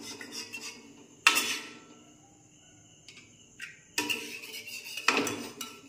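Spoon or ladle scraping and clinking against a metal pot while caramel is stirred into boiled milk, two bursts of stirring separated by a quieter stretch, close and moderately loud.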